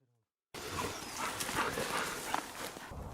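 Hunting dogs rushing in after a wild boar is shot, with faint barking, whimpering and scuffling amid outdoor noise, starting abruptly after a short silence.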